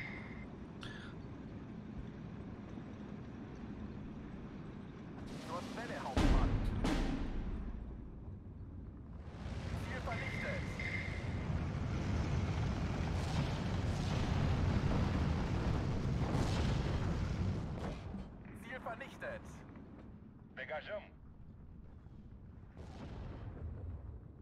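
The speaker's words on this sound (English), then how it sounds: "the artillery pieces when they fire" Artillery pieces and 120mm mortars firing in Steel Division 2, a series of deep rumbling booms and blasts, one sharp loud report near the start, then sustained rolling explosions fading into distant rumble, with no talking.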